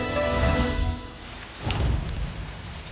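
Heavy rain pours in a dense, steady wash of noise with a couple of low rumbling swells that could be thunder, loud and close throughout.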